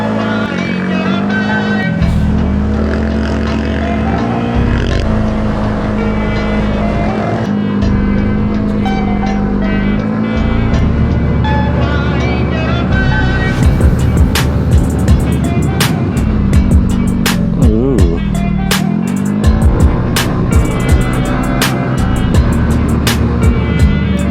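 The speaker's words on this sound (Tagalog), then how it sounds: "Parang ang bagal ang motor ko dito." A motorbike ridden along the Marilaque highway and the Pangil area of Laguna, Philippines, on a group holiday ride. Its engine drones loud and close throughout with shifting pitch and wind buffeting, and a few sharp clicks and rattles near the end.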